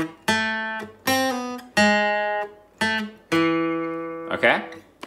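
Solo guitar plays the second section of a theme, five clear plucked notes ringing out one after another, close and clean, followed by a brief voice at the very end.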